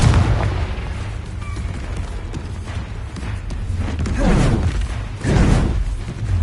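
The Confringo fire spell in Hogwarts Legacy, heard as repeated heavy booming blasts with rumbling mechanical impacts, loud and close, with the bursts swelling near the end.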